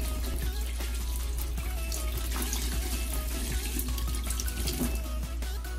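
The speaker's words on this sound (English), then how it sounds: "Let me pour back the cold water." Water poured into an extra-large Stokke Flexi Bath for a baby, a continuous moderately loud splashing stream with gurgles and drips, no voices.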